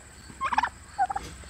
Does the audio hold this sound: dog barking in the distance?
no